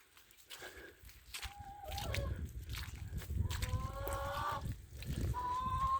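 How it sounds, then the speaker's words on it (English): Farm chickens let out in the morning after a night of rain cluck and call near and far, mixed with lower animal calls and a steady rustling rumble. "Let the chickens out."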